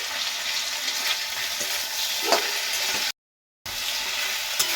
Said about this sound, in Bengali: কিছুক্ষণ পরে আমি ঢাকনাটা তুলে নিচ্ছি আর একবার নাড়াচাড়া করে দিচ্ছি।